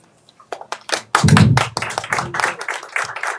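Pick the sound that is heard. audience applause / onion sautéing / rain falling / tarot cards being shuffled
audience applause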